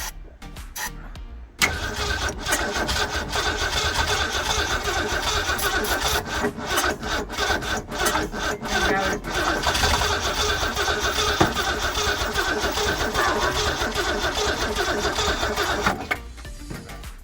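A 1965 Ford Mustang engine being started turns over in a long, loud, steady run that lasts most of the stretch after a short pause near the start, with irregular rough bursts throughout.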